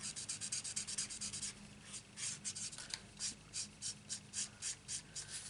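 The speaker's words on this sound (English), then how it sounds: "Rub a little." Colour is rubbed onto a stamped paper dragonfly wing in a steady series of soft, close scratchy strokes, roughly two per second, growing more distinct and rhythmic toward the end with no talking.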